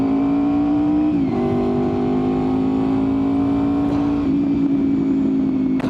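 A Honda VFR800fi motorcycle accelerating from a steady, droning engine note, with quick gear changes that briefly dip the pitch before it climbs again; loud and close with wind noise throughout.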